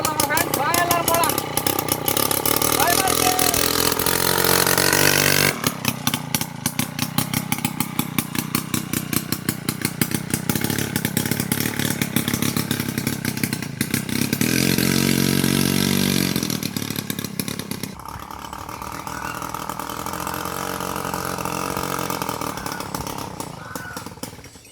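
An old motorbike engine fitted to a bicycle buzzes with a rapid, raspy two-stroke rattle, revving up and down for a long stretch before dropping to a quieter, steadier running note, with a voice speaking at times.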